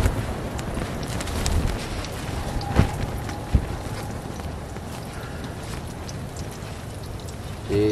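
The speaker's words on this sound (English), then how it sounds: "Hear that wind?" Strong winter wind gusting against a tent in urban woods, a steady broadband roar with rising gusts and a few brief knocks and bumps, close and continuous throughout.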